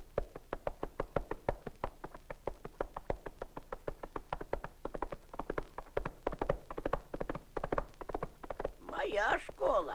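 A donkey carrying a rider clip-clops along with steady, rapid hoof knocks that stay close and distinct throughout, with a voice breaking in near the end.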